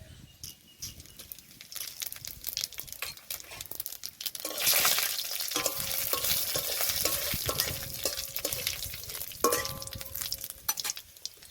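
Whole dried red chillies, bay leaf and cumin seeds fry in a small amount of oil in a kadai, giving a steady close sizzle and crackle that swells midway with scattered pops and stirring scrapes.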